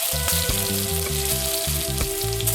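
Loud, continuous sizzling and crackling of whole cumin and asafoetida hitting hot oil, close and dense throughout, with a faint stirring scrape.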